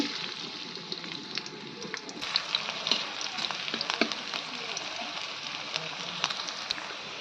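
Chopped onions fry in a kadai, a moderate steady sizzle with light crackles and a few soft utensil clicks.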